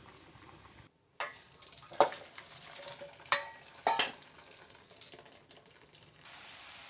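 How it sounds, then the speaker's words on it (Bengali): Boiling water drains off cooked bamboo shoots from a kadai in a kitchen: a steady close hiss and splash broken by a few sharp metallic clanks of the pan, with no voices. "আমি এই পর্যায়ে জলগুলো স্ট্রেন করে নেব।"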